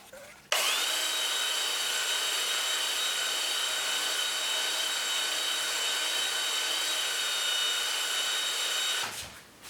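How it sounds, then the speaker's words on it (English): A steady, loud mechanical whine of a power sander on the wooden bottom of a lamp runs continuously for several seconds, starting and stopping abruptly, with no talking. "But first I have to sand that down"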